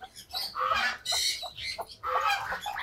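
A native desi hen, the foster mother of white ducklings, clucks and squawks in short agitated bursts close by, with no talk.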